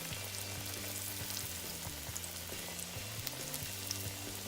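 Sliced green tomatoes fry in hot canola oil with a steady, dense sizzle throughout, close and even.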